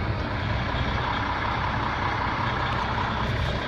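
A 2001 Volvo VNL64T430 truck engine runs steadily, a loud, continuous broadband diesel rumble without pause or speech, close to the listener.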